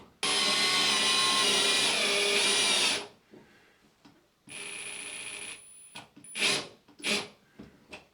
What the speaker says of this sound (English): And I'm just going to drive that in using the drill.